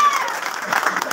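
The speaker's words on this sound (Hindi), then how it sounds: "तालियां जी, तालियां जोरदार" Brief applause from spectators at a snooker championship final in a club in Wazirabad: a short burst of scattered clapping with voices mixed in.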